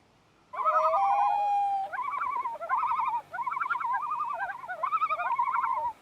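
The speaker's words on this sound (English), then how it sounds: "Every night I fall asleep to the beautiful haunting sound of loons calling." Common loons on a lake in Maine give long, haunting calls: a sustained wail, then a run of repeated warbling tremolo phrases, clear and fairly close against a quiet background with no voices.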